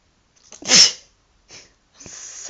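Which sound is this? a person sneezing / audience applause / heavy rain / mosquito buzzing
a person sneezing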